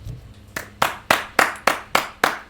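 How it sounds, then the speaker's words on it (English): Single person clapping hands in a slow, even rhythm, about seven sharp claps close by, with no crowd joining in. "Round of applause for that man"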